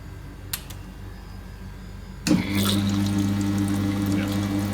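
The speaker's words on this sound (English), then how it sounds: "When I fire this up onto wash mode, water should be flying out of this hole." A Whoopee ice cream machine switches into wash mode and starts spraying water, a sudden loud rush with a steady mechanical hum that continues after a quieter ticking opening.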